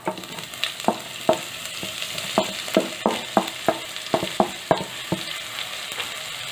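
Green garlic and onion whites fry in a pan while being stirred, a low sizzle punctuated by a dozen or so sharp, evenly spaced scrapes and taps of the spoon against the pan.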